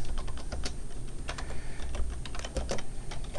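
Steady run of keystrokes on a computer keyboard, close and fairly loud, with quick irregular clicks throughout and no voices.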